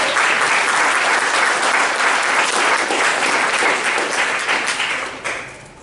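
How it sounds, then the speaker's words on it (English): Audience applause at a developer camp hackathon for a corporate challenge winner, a dense steady clapping from a sizable crowd that holds loud for about five seconds and then begins to thin and fade. "Round of applause."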